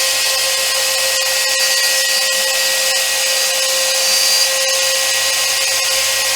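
A Sainsmart CNC 4040 Pro router with a Rotozip spindle running at 20,000 RPM cuts a workpiece, giving a steady, loud, high-pitched whine that holds constant pitch without bogging down.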